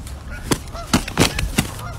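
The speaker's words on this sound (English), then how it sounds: "There's some geese beating the shit out of each other." Geese honk in several sharp, loud bursts close by, harsh and agitated calls overlapping with scuffling noise.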